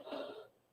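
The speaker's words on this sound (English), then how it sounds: "I still got that nagging cough" One short, rough cough, quiet and a little distant, quickly trailing off into silence.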